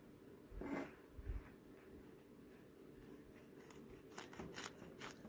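A knife cutting into cooked turkey breast that is nearly eight years past expiry, giving faint, close slicing and scraping sounds with a few soft taps and crackles of skin in a quiet room.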